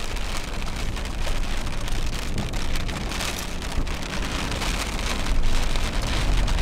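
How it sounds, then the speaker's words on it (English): Steady rain pours down on a 4x4 trail in southern New Mexico, a dense continuous patter on surfaces with a low rumble underneath, no voices. "Here comes the rain. Getting chased out again by rain."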